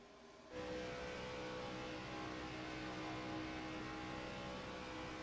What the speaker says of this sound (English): Let's see if we can actually go on board with Tommy Withers and listen to the car.